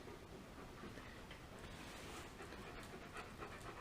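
A dog pants steadily and rapidly throughout, quiet and close, over a faint hiss of background noise with no speech.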